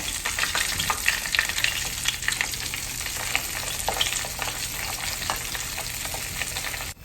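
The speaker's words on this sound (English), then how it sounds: "take your tenders that's already been breaded and put them in the chicken grease" Continuous crackling sizzle of breaded chicken tenders frying in olive oil and chicken grease, dense popping and spitting throughout, close and fairly loud with no voices.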